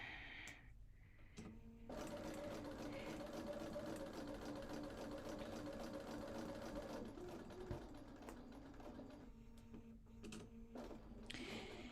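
A sewing machine stitching pieced quilt blocks for a sunflower design, running in a steady whirring burst of several seconds, then slowing and stopping with short pauses and handling noises around it, close and fairly quiet.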